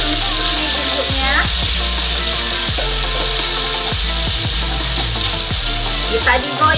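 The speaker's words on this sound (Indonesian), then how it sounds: "Kita tumis-tumis ini bumbunya" Ground spice paste sizzles in hot oil for Betawi-style pesmol fish, a loud continuous frying hiss with stirring scrapes, while a voice talks over it.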